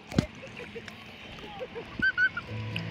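Poultry makes short honking and clucking calls at close range over a quiet background, with a couple of sharp squawks near the end, and people talk over them.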